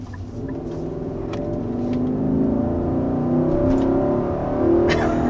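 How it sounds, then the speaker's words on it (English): A 2022 Infiniti QX80 full-size luxury SUV engine accelerating, a steady loud low rumble and whir that builds gently over several seconds, heard from inside the cabin with no talk. "Yeah, so there was a nice acceleration."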